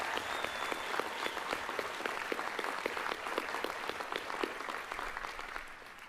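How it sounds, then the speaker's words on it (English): A round of applause at a Miami University spring commencement ceremony, a large crowd clapping steadily and evenly throughout, heard at a distance with no voices on top. "Let's give her a big round of applause"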